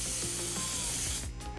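An airbrush sprays paint in a steady hiss from straight overhead onto a miniature for zenithal highlighting, continuous and close for most of the moment before easing off, with faint mechanical clicks underneath.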